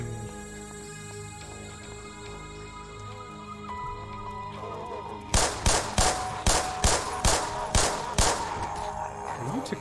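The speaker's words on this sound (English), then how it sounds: "A lot of shots." Gunfire in the video game Black Mesa, a burst of about ten loud, sharp shots in quick, fairly even succession, following a stretch of ambient game sound and music.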